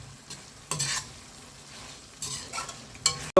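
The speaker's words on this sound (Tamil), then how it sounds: "இப்போ ஒரு 2 நிமிஷம் எண்ணெயில் வதங்கட்டும்." Chicken liver sautéing in oil for a chicken liver fry while being stirred, giving short scraping stirs and bursts of sizzle against quieter frying in between, fairly close, with no talking.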